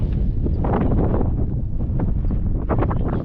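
A strong, cold wind buffets the microphone at the high Bandar Al Khiran viewpoint in Muscat, Oman, a loud continuous roar with gusting surges and no talk.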